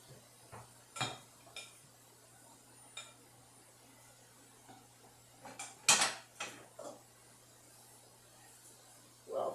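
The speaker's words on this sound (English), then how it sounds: "I can't lift these heavy bowls very good." Heavy mixing bowls are lifted and set down in a kitchen, giving scattered faint clinks and knocks with a low steady hum beneath and long quiet gaps between.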